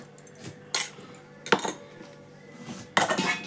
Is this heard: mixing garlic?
yes